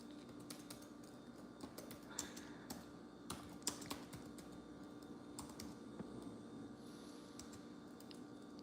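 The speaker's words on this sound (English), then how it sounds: "I'm typing some things in with one hand. I got my phone in one hand." One-handed typing on a phone touchscreen, a quiet, irregular run of small taps and clicks over a low steady room hum, fairly close.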